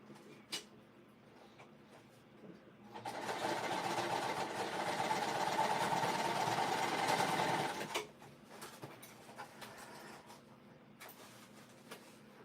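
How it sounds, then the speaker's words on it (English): A sewing machine stitches a bag seam with the gusset side up, running steadily and fairly loud for about five seconds. Quieter handling noises come before and after the run. "I'm going to sew it this way with the gusset side up"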